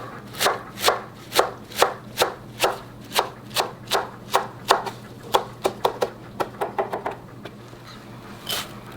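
A knife chops garlic chives on a cutting board in evenly spaced sharp knocks, about twenty in all, speeding into a quicker run near the end, close and clear.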